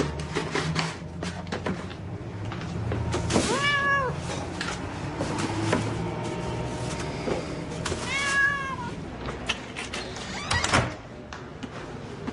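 A cat meows twice, loud and close, within a busy movie scene that has background sounds and movement.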